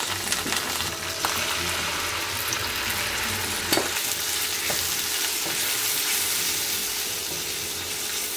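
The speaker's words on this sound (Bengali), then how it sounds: "এখন আমি মশলাটা কষিয়ে নিব" Ground spices (turmeric, coriander, cumin, chili and garam masala powders) frying in a pan with a steady, dense sizzle and occasional scraping stirs of a spoon, close and continuous, no talk.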